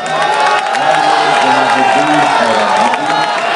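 An audience at a mushaira poetry gathering claps and cheers continuously, a loud, dense crowd roar with scattered shouts and whoops throughout.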